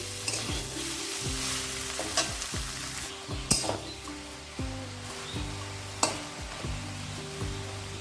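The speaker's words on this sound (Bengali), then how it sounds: "আলুটা অনেকটাই নরম হয়ে আছে আর একটু সময় ভাজলেই হয়ে যাবে" Softened potato pieces frying in a pan for a Bengali banana-flower and fish-head dish: a continuous close sizzle broken by repeated scraping stirs and a few sharp clinks of the spatula, over background music.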